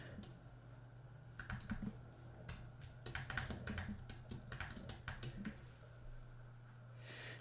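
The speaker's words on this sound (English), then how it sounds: "we'll just type in our very first keyword" Keys clatter on a computer keyboard as a keyword is typed, a quiet, irregular run of close clicks in short clusters over a steady low hum, with no talking.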